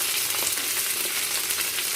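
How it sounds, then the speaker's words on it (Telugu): Sliced onions and curry leaves fry in a pan for a bitter gourd curry, producing a continuous, even crackling sizzle, close and unbroken for two seconds without speech. "ఇప్పుడు కొద్దిగా కరివేపాకు, ఇదంతా కాస్త ఫ్రై చేసుకుందాము."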